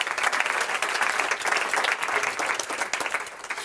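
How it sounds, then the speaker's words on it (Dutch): A hall full of people at a cultural kick-off meeting gives sustained, dense applause, steady and even throughout with no speech over it. "Applaus."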